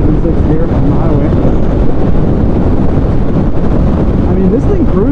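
Wind roar swamps the microphone at highway speed as a Suzuki Hayabusa inline-four motorcycle cruises in sixth gear. A loud, constant rush with the engine buried underneath and a voice talking briefly.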